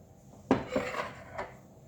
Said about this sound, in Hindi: इस सब को डाल के अच्छे से इन सबको मिक्स करेंगे।